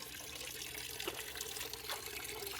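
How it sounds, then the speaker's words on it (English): Faint, steady running water in an old bed-and-breakfast house, a soft continuous trickle like a tap or flow somewhere nearby, low in level with no voices. "I hear water running."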